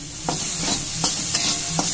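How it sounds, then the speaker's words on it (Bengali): Chopped tomato goes into spices frying with chilli and cumin powder in a pan, a steady close sizzle broken by about five soft stirring scrapes at even intervals, with no voices. "সবশেষে দিয়ে দেবো টমেটো কুচি"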